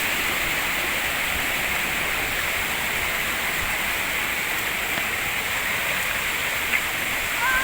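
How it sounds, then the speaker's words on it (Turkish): Karapınar waterfall near the source of the Gediz River roars steadily as a loud, unbroken rush of falling water, close and constant throughout with no talking. "Evet şelaleye geldik."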